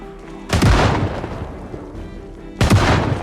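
Shotgun blasts in the video game Project Zomboid: two loud, booming shots about two seconds apart, each with a short decaying tail, and no talking.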